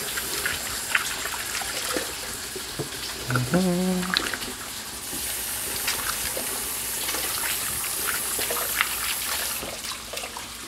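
Tap water runs steadily while hands are washed at a sink, a continuous near gush with some splashing and brief clunks partway through.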